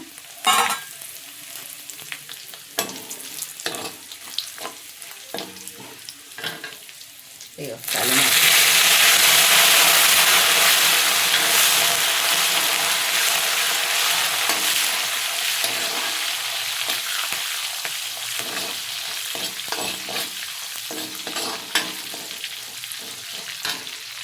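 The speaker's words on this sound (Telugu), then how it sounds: "ఇప్పుడు ఎండుమిర్చి వేసేసిన." Dried red chillies with cumin and mustard seeds are dropped into hot oil, and a quiet stirring scrape jumps into a loud, steady sizzle that slowly fades a little, with a voice speaking throughout.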